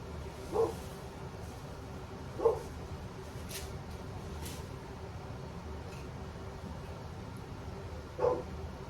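A few distant dog barks, three spaced-out yelps over a steady low background hum, with no talking.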